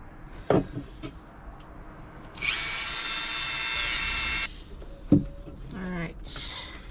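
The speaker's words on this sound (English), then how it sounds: "Dremel for the win." A Dremel rotary tool whirs at a steady high pitch for about two seconds in the middle, then cuts off, with clunks and handling knocks before and after and a brief voice near the end.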